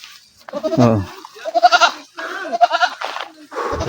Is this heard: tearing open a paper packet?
no